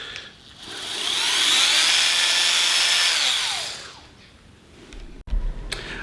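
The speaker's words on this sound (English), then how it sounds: "That rattle is a bit, for me, just doesn't bode well when something's rattling like that." A Rupes Ibrid Nano Bigfoot cordless polisher runs with a loud, steady whine that swells up and holds for a few seconds, then winds down, followed by a few sharp handling knocks.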